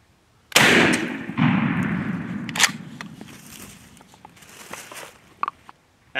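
A single loud shotgun blast from a Mossberg fitted with an Accu-Choke XXFull turkey choke tube, a sharp close report followed by a long rolling echo that fades over several seconds, with a few faint clicks afterward.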